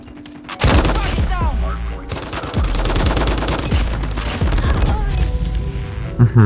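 RAAL MG light machine gun firing in the mobile shooter game Call of Duty Mobile, loud sustained automatic bursts after a brief quiet start, heavy rapid fire filling the clip with a final burst at the end.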